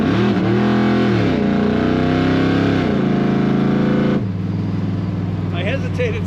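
A 1955 Chevrolet Bel Air V8 accelerates hard, its loud growl rising and falling through several pitch sweeps before settling into a lower steady drone, with faint other sounds toward the end.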